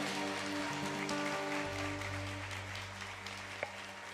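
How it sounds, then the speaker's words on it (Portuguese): A church congregation applauds during a service, producing a steady, faint wash of many hands clapping that sounds almost like rain, with sustained musical tones underneath. "vamos aplaudir ao Senhor pela vida do Bernardo."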